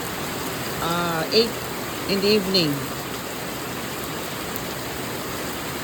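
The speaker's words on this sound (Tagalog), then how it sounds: "Nako, ulan naman. Ulan na naman, mga friends ko dyan." Steady rain falls during a typhoon-season evening, a broad even hiss throughout, with a person talking briefly over it near the start.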